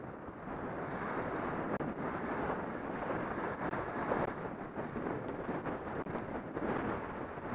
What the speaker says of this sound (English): And as you can hear the wind